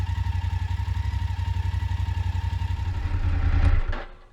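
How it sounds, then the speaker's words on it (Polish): A motorcycle engine idles with a steady, rapid thumping pulse, then revs briefly louder near the end before cutting off abruptly. "Odpalamy zatem nasz motocykl, jedziemy się nim przejechać."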